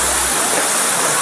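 A waterfall in a mountain forest, a steady, loud broadband rush of falling water filling the whole short stretch without pause, with no voices over it.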